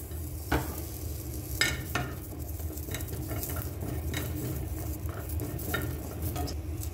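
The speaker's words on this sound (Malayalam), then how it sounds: "ഇതെല്ലാം കൂടെ ഒന്ന് ലോ ഫ്ലെയിമിൽ ഇട്ടൊന്ന് വറുത്തെടുക്കാം" Small onions with cinnamon, chillies and coriander dry-roasting in a pan over a low flame give a steady, close sizzle, broken by occasional sharp scrapes and clinks of stirring.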